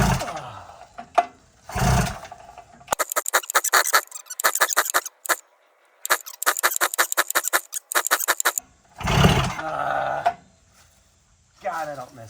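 A small engine cranked with the choke fully on, vehicle in park: repeated rapid bursts of pull-start cranking that sputter without catching, broken by pauses, with a person talking before and after.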